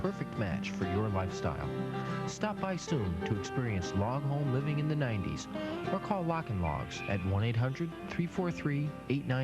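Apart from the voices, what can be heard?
No everyday noise stands out behind the speech.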